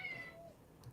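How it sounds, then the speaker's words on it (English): A cat gives a short, faint meow heard close by in a quiet room, lasting under half a second. "That's my cat. He says hello."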